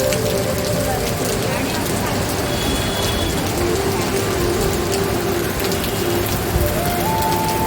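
Heavy rain pours steadily over a Mumbai street on a morning when traffic has backed up, a dense constant hiss with faint tonal hums from the road beneath it.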